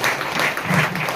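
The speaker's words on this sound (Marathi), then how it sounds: "मग सर्वांनी जोरात टाळ्या देऊन प्रभू येशूचे आभार मानायचे आहे." A church congregation at a prayer centre claps loudly together in thanks, a dense, steady wash of hands lasting the whole moment with no voices over it.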